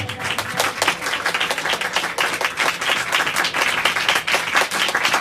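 A church congregation breaks into loud, dense applause during a sermon, many hands clapping steadily and close, with a faint murmur of the crowd beneath.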